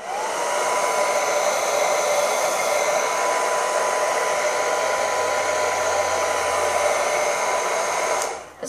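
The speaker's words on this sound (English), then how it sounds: "I'm gonna take my hairdryer, switch it on to no heat, low speed" Hairdryer running on no heat at low speed, a steady close whir with a constant airy hiss that holds evenly for several seconds, then cuts off at the end.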